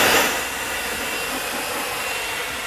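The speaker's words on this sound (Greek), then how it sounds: "Βάλε το πιστολάκι να το στεγνώσουμε." A handheld hair dryer blows steadily at close range to dry a homemade DIY piggy bank, a continuous loud broadband whoosh that starts slightly stronger and then holds an even airy roar with no talking.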